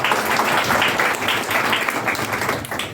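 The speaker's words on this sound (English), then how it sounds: "Let's give her a round of applause" Workshop participants on personality and leadership development applaud a fellow participant, close, steady clapping that runs for a few seconds without pause.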